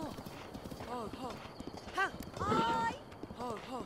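A horse's hooves clip-clop at a steady walking rhythm in Zelda: Breath of the Wild, with a brief whinny midway and a voice talking over it.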